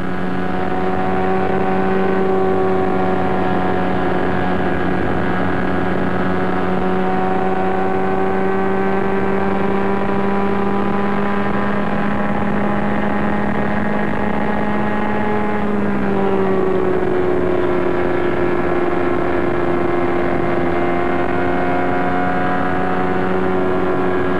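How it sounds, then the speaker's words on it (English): IndyCar race car engines at the 1994 Indianapolis 500, a loud, continuous high-pitched whine of several cars circling the oval. The engine notes hold steady, then shift in pitch around the middle as the cars pass, with no talk over them. "let's just sit and watch and listen to Robbie Gordon as he tries to reel in Boisel"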